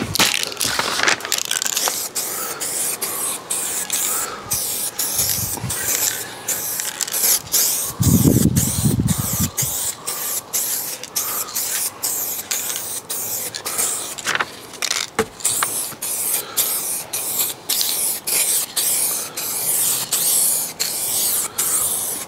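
Aerosol spray paint, a coat of direct gloss, going onto the rear beam of a Fiat 500C, heard up close as a steady loud hiss broken by many short bursts as the nozzle is pressed and released.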